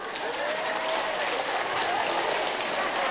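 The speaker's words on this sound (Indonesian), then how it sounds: "Mari tepukan." An audience at a thanksgiving celebration for a new priest's ordination breaks into sustained, dense applause that stays loud and even throughout.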